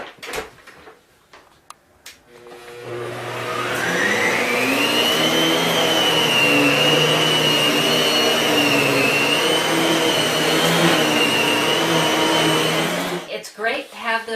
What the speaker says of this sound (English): and then you just vacuum it up.